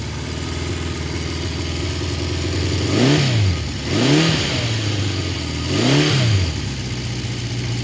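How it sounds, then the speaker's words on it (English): A 1976 Honda CB750 K6 motorcycle engine idles steadily up close, then gets three quick throttle blips that swell and fall back to idle, loud and alone. "Nice smooth Honda engine."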